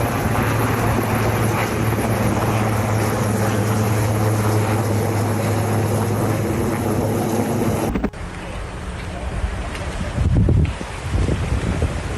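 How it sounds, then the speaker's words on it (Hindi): Helicopter working to control a fire that has destroyed homes, its rotor and engine drone loud and steady with wind buffeting, then cutting abruptly to quieter rumbling and wind noise. "हेलीकॉप्टर से आग पर काबू पाने की कोशिश।"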